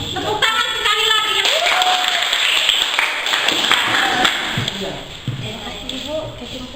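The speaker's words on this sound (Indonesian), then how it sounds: "Tepuk tangan sekali lagi." A classroom group claps hands in applause for a student, a burst of dense clapping with a teacher's voice speaking over and around it.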